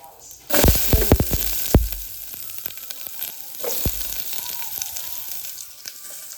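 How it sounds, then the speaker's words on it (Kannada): Mustard seeds and curry leaves hit hot oil with a burst of loud, sharp crackles and pops close by. The spitting then settles into a continuous sizzle with a few scattered pops and some stirring. "ಒಂದು ಕಡೆ ಅದಕ್ಕೆ ಸ್ವಲ್ಪ ಸಾಸಿವೆ, ಚಟ್ಪಟ್ ಅನ್ಬೇಕು."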